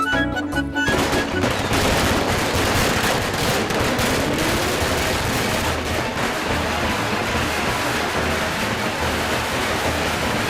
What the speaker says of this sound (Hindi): पटाखे बंद हो गए।